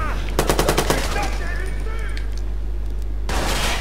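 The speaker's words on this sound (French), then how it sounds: "Le mec qui m'a tiré derrière." Rapid automatic gunfire from the video game Watch Dogs, a burst of about eight sharp shots early on, followed by a low steady game hum and another loud noisy burst near the end.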